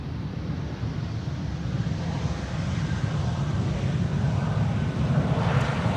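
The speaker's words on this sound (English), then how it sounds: "Embraer 190, flying on behalf of KLM, returning home from Birmingham" A KLM Cityhopper Embraer 190 arrives at Amsterdam Schiphol from Birmingham, its engine roar rising gradually over a few seconds as it draws closer, with no voices.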